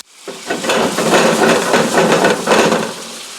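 Swedish meatballs being turned over in a greasy frying pan, a steady broadband sizzle with scraping and clinking as they are flipped, close and loud throughout.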